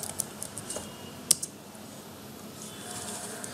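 Typing on a computer keyboard: quiet, close, irregular key taps with one sharper click standing out, under a faint steady room hum.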